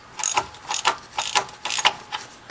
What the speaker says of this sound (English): So we'll start by taking off those 2 bolts.